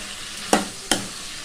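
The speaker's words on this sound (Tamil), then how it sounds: "இப்போ தக்காளியை சேர்த்துக்கலாங்க. பாருங்கள், தக்காளி வதங்க லைட்டாக உப்பு சேர்த்துக்கலாம். நல்லா கலந்து விட்டுக்கலாம்." Sautéed onions and tomatoes with salt fry in a pan under a soft constant sizzle, broken by two sharp scraping strokes of a spoon stirring them, close and clear with no talking.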